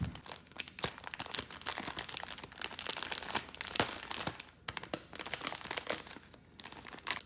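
A plastic bag holding twelve biodegradable sponges crinkles and rustles close up, with continuous handling crackles and sharp crunchy bursts, no talking.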